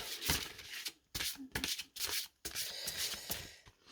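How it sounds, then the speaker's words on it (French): Oracle cards are shuffled and handled for a three-card draw, with soft riffling and sliding bursts broken by brief pauses, close and quiet. "je vous propose, comme à chaque fois, à la fin de la présentation d'Oracle, eh bien, un tirage à 3 cartes"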